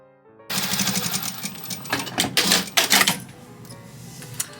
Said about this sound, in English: We're going to do a little back stitch and then sew about a 1/4 inch down.